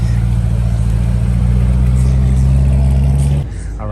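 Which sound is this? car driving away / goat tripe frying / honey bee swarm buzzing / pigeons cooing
car driving away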